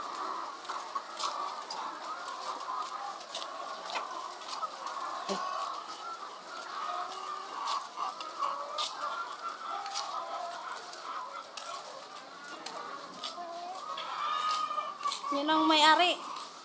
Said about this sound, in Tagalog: Ito yung mga alaga naming manok.